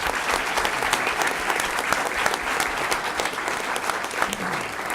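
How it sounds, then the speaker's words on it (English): Audience applause at a school district board meeting honoring the board trustees: steady, dense clapping from a crowd filling the room throughout, fairly loud and continuous. "let's give them a big round of applause for what they do"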